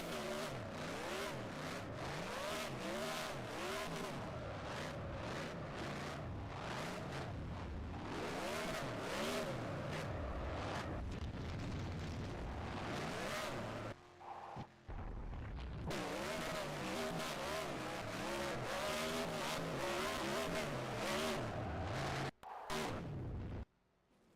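A race car's engine roars and revs hard through a victory burnout at Auto Club Speedway in a racing game, loud rising and falling bursts with tire noise, briefly cutting out twice.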